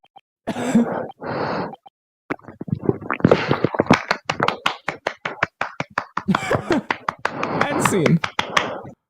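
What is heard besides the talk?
hands clapping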